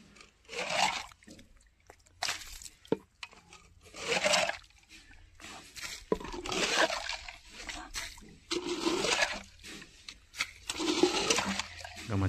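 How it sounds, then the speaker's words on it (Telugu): Water is being pumped and drawn out of a farm well to empty it so a drip irrigation pipe can be fitted, heard as repeated loud gushing, splashing bursts with short pauses between surges. "అందుకోసం వాటర్ అయితే మొత్తం మనం బయటికి తోడేస్తున్నాం"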